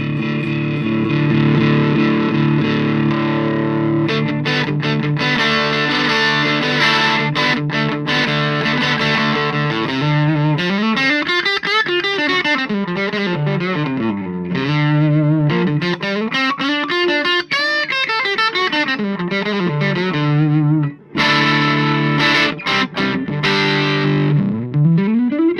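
Electric guitar played through an IronHorse 40W tube amp with the master and gain turned up, giving a loud, heavily distorted sustained riff with bending, sliding notes and continuous crunch throughout.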